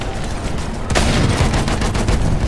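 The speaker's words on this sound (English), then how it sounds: "Enemy machine gun over there." Sustained automatic machine gun fire in Battlefield 1 during a battle with an anti-aircraft gun and tanks, a rapid rattling stream that grows louder partway through, close and dense over a rumbling background.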